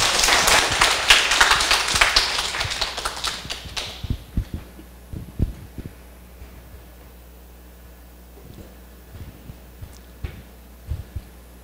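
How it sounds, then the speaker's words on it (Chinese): Lecture hall audience applauding to welcome a lecturer, a dense burst of clapping that fades out after about four seconds, followed by a quiet room with scattered knocks and handling sounds. "请掌声欢迎"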